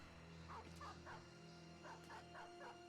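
Dogs bark in the tactical video game Battle Brothers, about six short, yappy barks in two quick clusters over a steady droning game soundtrack.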